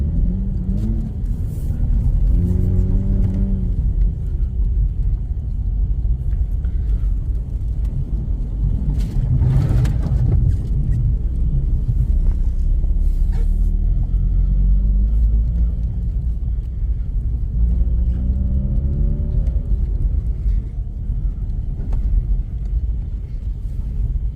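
A 2009 Mazda RX-8 rotary engine drones while driving, a loud steady cabin rumble with rising and falling rev sweeps as it pulls through gears, plus a brief spoken comment inside the car.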